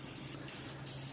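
Spray paint hissing from an aerosol can onto chain link gates in a fabrication shop, a steady close hiss with two brief pauses between bursts.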